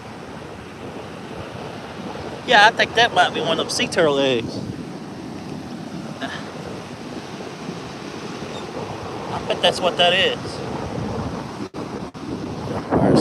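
Surf washes onto a Texas beach under gusting wind buffeting the microphone, a constant roar behind someone speaking in two short bursts.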